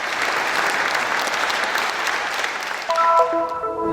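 Sustained, dense applause from a concert audience in Rhodes, steady and loud throughout, with a few bright musical tones entering near the end.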